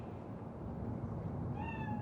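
A cat meows in Cyberpunk 2077, a short rising cry near the end over a steady, busy game ambience.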